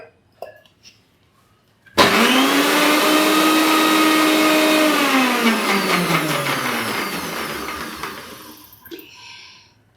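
After a few faint knocks, a mixer grinder loaded with leftover ingredients and milk kicks on abruptly and roars loudly for about seven seconds, its whine sagging in pitch before it winds down and cuts off.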